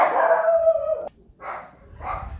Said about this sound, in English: I have 3 dogs, and they're yappers